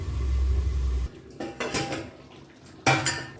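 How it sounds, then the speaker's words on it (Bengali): A metal lid is set onto a cooking pot of chicken do pyaza, giving a couple of close, clattering clanks over a low background hum. "এবার আমি ঢাকা দিয়ে সিম করে দিলাম।"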